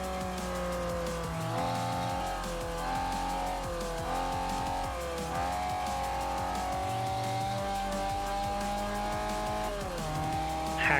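A car engine in the racing game Forza Motorsport 4 drones steadily, rising and falling in pitch as it revs through gear changes, with tire squeal mixed in and no talking.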